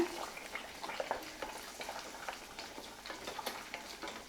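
Egg and drumstick stir-fry cooks over a raised flame, a faint crackling sizzle with soft, irregular scraping stirs close by.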